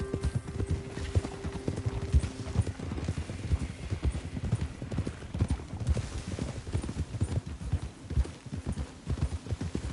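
Horse hooves clip-clop steadily in a PS4 video game, a busy rhythmic patter of hoofbeats running the whole time with an occasional whinny and a voice speaking briefly over it.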